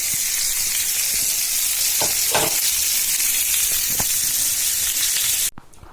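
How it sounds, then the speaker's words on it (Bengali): Chicken meat and potatoes fry in a pan with a loud, continuous close-up sizzle and a few stirring knocks, and it cuts off abruptly near the end. "এদিকে হচ্ছে আবার এই যে মাংস ভাজা"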